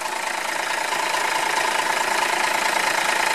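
A 1989 Ford L8000 rollback recovery truck's diesel engine with a large Bosch injection pump idles just after a cold start, a close, steady clattering rumble with an even knocking rhythm and no talking.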